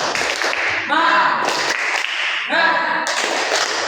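Children in a classroom peer-teaching session perform a rhythmic 'tepuk semangat' clap chant, bursts of group claps alternating with chanted voices in a steady pattern, close and fairly loud.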